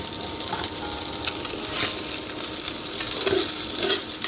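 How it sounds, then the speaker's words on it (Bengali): Small kachki fish fry in hot oil with a moderate, even sizzle and occasional soft stirring crackles, heard close with no talking. "মাছটা আমি তেলের মধ্যে দিয়ে দিচ্ছি।"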